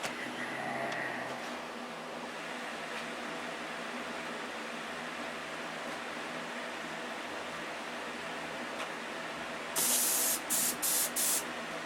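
A faint continuous airbrush hiss fills the background of a workshop during a repair, followed near the end by several short, louder bursts of spray.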